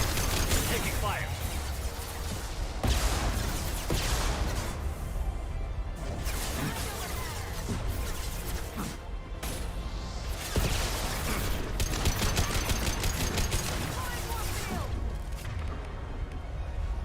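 Gunfire in the video game Mass Effect 2, dense bursts of shots and impacts crackling throughout with crashes and whooshes, loud and busy, while voices shout over the battle.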